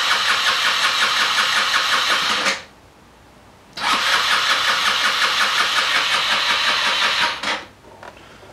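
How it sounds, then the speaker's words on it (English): A small GY6 scooter engine cranks over on its electric starter with a rapid rhythmic whirr in two long bursts, separated by a pause, close by and loud. "it's turning over and it don't sound that bad"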